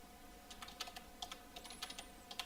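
Soft, faint keystrokes tap on a computer keyboard as CSS code for a web page is typed, a light steady run of clicks over quiet room hum.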